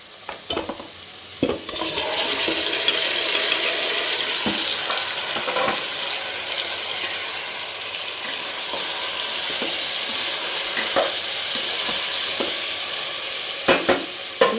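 Chopped onions and mixed vegetables for a vegetable paneer pulao sizzling loudly in oil in a pan, a steady close frying hiss with occasional stirring clinks, no talking.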